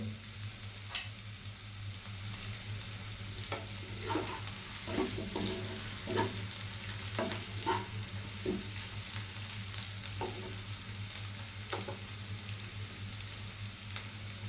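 Chopped cauliflower, cabbage, carrot, long beans and spring onion frying in oil for chicken fried rice, a steady close sizzle broken by scattered clicks of stirring, with no one talking.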